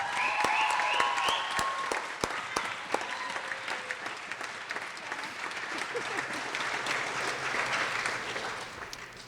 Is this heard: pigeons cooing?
no